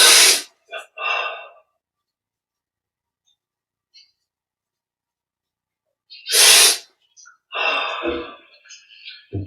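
During a guided meditation, a person takes two sharp, forceful breaths several seconds apart, each followed by softer breathy and vocal sounds, with near silence between them.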